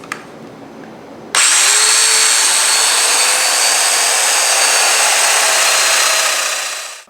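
A power saw makes a plunge cut into wood for an end table, starting abruptly after a quiet moment and holding a loud, steady, close whine that fades slightly near the end, with no voices.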